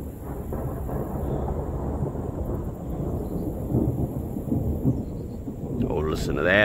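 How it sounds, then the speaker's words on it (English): Thunder rolling during an August storm, a long deep rumble that swells and fades in waves over light rain, fairly distant and steady, with a voice briefly audible near the end. "We got some pretty good thunder happening"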